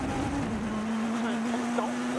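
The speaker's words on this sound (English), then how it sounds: "Making the Peugeot 207 sing for him." A Peugeot 207 rally car engine drones at a steady pitch during a European Rally Championship stage, heard from a distance under a fairly noisy background.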